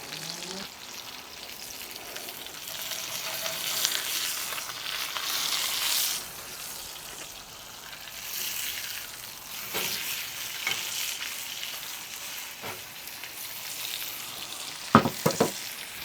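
A pork chop fries in its rendering fat on a coal shovel over a fire, giving a steady, close crackling sizzle that swells and eases. A few sharp clicks and knocks come near the end.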